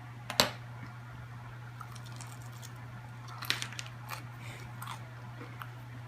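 Corn flake baked chicken nuggets being bitten into at close range: a sharp crunch, then a later cluster of smaller crunchy chewing bites, all over a steady low electrical hum.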